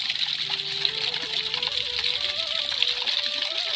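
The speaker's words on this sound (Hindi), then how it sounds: "बारिश की वजह से जगह जगह से पानी निकल रहा है" Rainwater rushes and splashes steadily out of the ground in farm fields at close range, a continuous gushing flow with a faint tonal whine running underneath.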